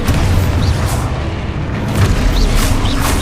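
Expulso explosion spell cast in Hogwarts Legacy: a loud, sustained booming rumble with a few faint crackling pops layered over it, continuous for the whole stretch.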